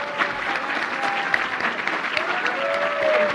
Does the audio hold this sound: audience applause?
yes